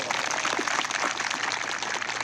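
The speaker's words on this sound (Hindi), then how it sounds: "उसका जोरदार तालियों से स्वागत करो" Audience applause welcoming a legislator at a public speech event, a steady dense clatter of clapping that holds loud and even throughout with no talk over it.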